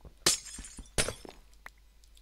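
Glass blocks break in the Minecraft video game with two sharp shattering crashes about three quarters of a second apart. Each is followed by small clinks and thuds, heard alone without talk.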